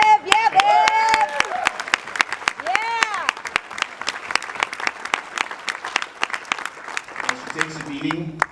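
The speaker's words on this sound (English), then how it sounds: "So she does deserve that applause" Applause at a softball awards banquet, a room full of people clapping steadily with cheerful shouts early on, fading out as a voice begins speaking at the end.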